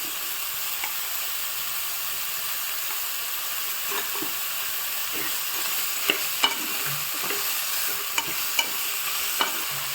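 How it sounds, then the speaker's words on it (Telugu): Mushrooms sizzle steadily in a hot pan while being cooked for mushroom pulao, with occasional stirring clicks and scrapes over a constant frying hiss. "మష్రూమ్ని వేసి వేయించుకోవాలి."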